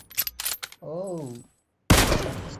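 Kar98k sniper rifle shots ring out in PUBG Mobile gameplay, a sharp loud blast with a short decaying tail after brief bursts of speech and a sustained vocal tone.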